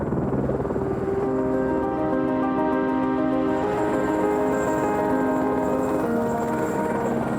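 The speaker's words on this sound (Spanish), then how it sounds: "El helicóptero fue a buscar más gente" A helicopter at the Codelco Andina mine in the Chilean Andes makes a steady, loud droning hum with a constant engine tone and no break, close by and with no talk.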